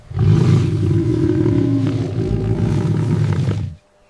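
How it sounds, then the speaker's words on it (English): A lion roars in one long, loud, rumbling blast that holds for several seconds and then cuts off abruptly. "Lion."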